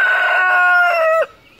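A single loud rooster crow, close by, with a rising harmonic call that ends abruptly after about a second.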